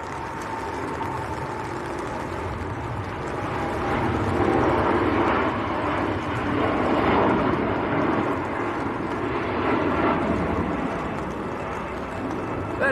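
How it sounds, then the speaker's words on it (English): An IndiGo Boeing 787 Dreamliner departs Manchester Airport, its broad jet roar swelling and holding steady for several seconds before easing slightly, heard fairly close and alone. "Here goes Indigo Dreamliner."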